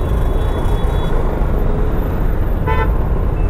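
Steady, loud road traffic rumbles on a highway near Satara during a Goa to Mumbai motorbike ride, with a brief car horn toot sounding near the end over the constant engine and wind noise.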